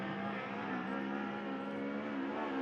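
A USAC midget race car circling the Merced dirt track during night qualifying, its engine holding a continuous high, buzzing drone at steady revs with no voices.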